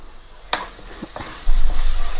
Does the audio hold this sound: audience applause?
no